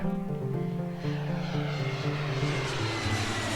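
A propeller airplane engine from the OpenTTD video game drones steadily and close, a low rough hum with tonal harmonics that slowly shift pitch over a few seconds.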